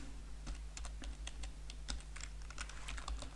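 Quiet, close typing on a computer keyboard, a quick irregular patter of individual key clicks with no talking.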